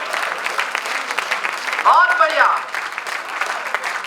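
Audience applause at a Hindi poetry recital, a steady crackling clap texture running the whole time, with someone speaking over it near the middle.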